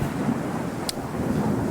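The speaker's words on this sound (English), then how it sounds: "So if I'm going to go back to the thunderstorm here, patch." A synthesizer thunderstorm patch gives a steady, dense rumbling wash of storm noise with a brief bright crackle in the middle.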